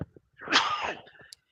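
A single sneeze, sharp and close, rising into a bright burst and trailing off, with a brief quiet breath before and after.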